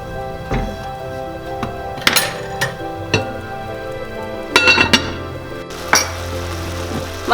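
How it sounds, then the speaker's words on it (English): Rice for saffron pulao with cashews being stirred in a stovetop pot, with a few sharp metallic clinks and clatters of spoon against pot and a lid set down, near and fairly loud over a low steady background. "Give a slight mix and cover it."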